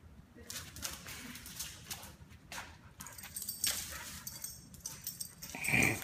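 Dogs whimpering and whining in a home while chasing a laser pointer, faint soft whines and scrabbling amid quiet room noise, with a brief sharper squeak near the end.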